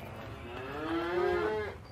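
A single drawn-out moo from a large cattle-like creature, a low rising and falling bellow lasting over a second, close and clear against a quiet background.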